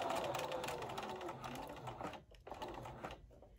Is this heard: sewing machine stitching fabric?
yes